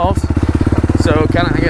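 Yamaha YFZ quad ATV engine revving loudly and close while riding, a rapid pulsing exhaust note that climbs in pitch, with a voice speaking over it toward the end.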